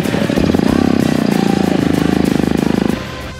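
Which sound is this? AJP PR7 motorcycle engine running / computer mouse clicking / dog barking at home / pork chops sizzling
AJP PR7 motorcycle engine running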